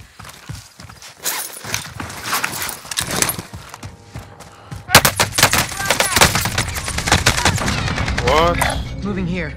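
Rapid automatic gunfire and scattered shots ring out in a Call of Duty: Modern Warfare battle, sparse at first and then swelling into sustained loud bursts, with voices calling out amid the fire.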